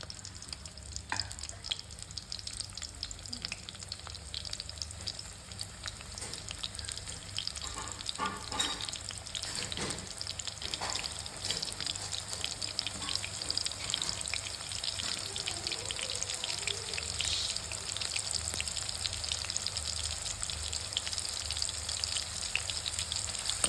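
Chopped onion frying in clean, hot oil for a bachelor-style chicken fry, a steady soft sizzle with faint crackle that runs evenly throughout, no voices.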